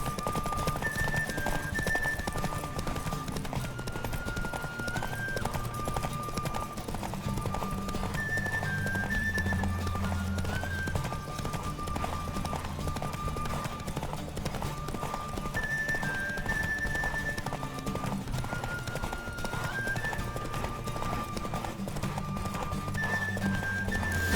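A horse gallops through The Witcher 3 with a constant, driving clip-clop of hooves, close and loud for a long stretch, over a melodic game score with a brief whinny-like tone.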